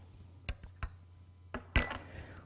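Spoon striking against a bowl while beating castor oil and other ingredients together, a few sharp clinks spaced apart, then a quick rattling flurry of scraping taps, quiet and close.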